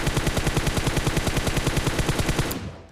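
Automatic gunfire in a battle royale video game: a rapid, evenly spaced stream of loud, close shots that runs for a couple of seconds and then stops abruptly.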